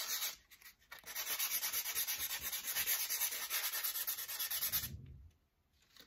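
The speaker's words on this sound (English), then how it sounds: "Then I think I'm gonna sand just a little bit and just see what that looks like." Sandpaper rubbing over a painted Dollar Tree picture frame, a close, steady scratchy rasp of quick back-and-forth strokes lasting several seconds before stopping.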